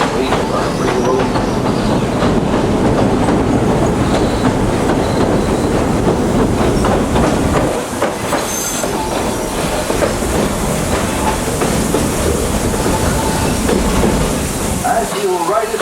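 A Walt Disney World Railroad train rumbles steadily along the rails with a dense, continuous roar and faint rhythmic clatter, loud and close throughout.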